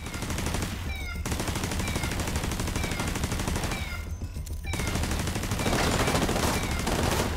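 An automated turret in The Division 2 video game fires continuous rapid bursts of gunfire, dense and loud, broken by two brief pauses before resuming.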